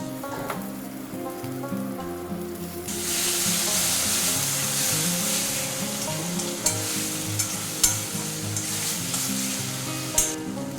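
A pan sizzles loudly the moment poppy seed paste and water go in while a banana flower curry cooks, with steady frying hiss, occasional stirring clicks, and no talking.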